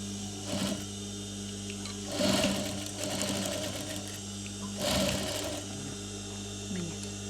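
Sewing machine stitching eyelet tape onto a curtain, close rapid mechanical whirring in three short bursts separated by a steady low hum.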